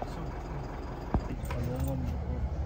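Ignition key jangling on a car's key ring, a brief bright metallic rattle near the middle, over a low steady background hum.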